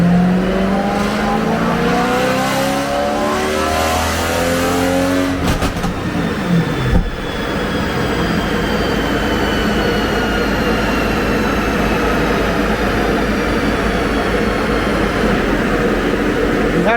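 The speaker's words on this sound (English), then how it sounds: "about to dyno my car" A BMW E93 M3 engine revs hard on a dyno, rising in pitch through a loud sweep and then holding a sustained roar close by.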